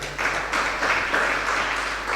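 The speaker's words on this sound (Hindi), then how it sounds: "ये ताली बजा दो इस पर" Listeners at a Jain monk's religious discourse clap together, a dense burst of applause that stays fairly even across its short length.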